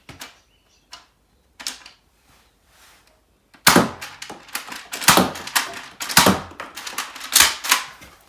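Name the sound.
Nerf Nailbiter blaster firing shots with barrel attachment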